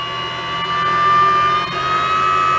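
An electric motor spun up to about 6,000 RPM gives a steady, high, thin whine over a low hum. It holds level throughout with no voices.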